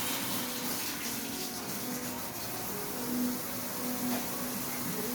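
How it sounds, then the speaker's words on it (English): Hands washed under a running kitchen faucet while cooking soul food, a continuous moderate rush of water splashing into a sink, steady from start to finish with no speech. "Wash these hands."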